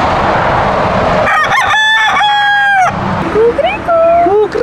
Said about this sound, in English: a rooster is cockle-doodle-doo